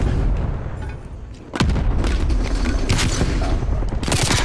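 Dense, loud gunfire rattles throughout a Hardpoint match in a first-person shooter game, with a sharp burst partway through and continuous shooting layered under game noise.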